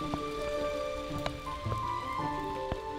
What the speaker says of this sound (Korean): 이내 빗방울이 떨어집니다